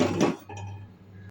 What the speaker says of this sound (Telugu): ఇప్పుడు మరొక బాండీ పెట్టి